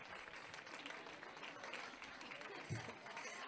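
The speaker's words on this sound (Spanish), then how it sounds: "Un fuerte aplauso para Martina" Applause for young child performers at an end-of-year school festival, a steady crowd clapping that sounds faint and distant, with a brief voice emerging near the end.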